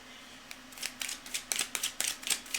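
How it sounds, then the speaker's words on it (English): Tarot cards being shuffled by hand produce a quick run of crisp, papery riffles and snaps that grow louder and faster toward the end, heard up close with no voice. "Alright, cards are well shuffled."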